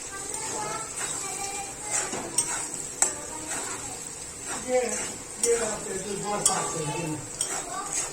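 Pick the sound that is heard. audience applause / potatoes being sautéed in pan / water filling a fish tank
potatoes being sautéed in pan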